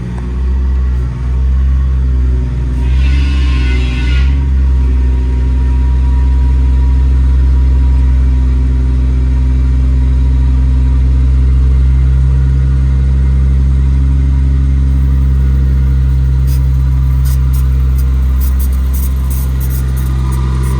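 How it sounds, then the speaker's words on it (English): An air compressor runs on a 2015 Ford F750 truck with a Cummins engine, a steady loud low drone and rumble that continues without a break for the whole stretch, with a brief hiss early on. "The compressor is now on."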